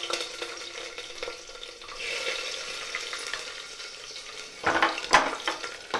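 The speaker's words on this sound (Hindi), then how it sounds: "जीरा और मिर्चा देखिए तड़क चुकी है, तो इसी जगह पे हम सारे लहसुन को ऐसे ही बिना काटे ही डालेंगे।" Whole unchopped garlic cloves hit hot oil already crackling with cumin and chili, giving a soft, steady sizzle with a louder burst of spitting and stirring toward the end.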